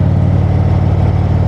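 An Indian Chieftain motorcycle running a Fuel Moto tune idles loudly and steadily, with a deep, continuous low rumble and no voices.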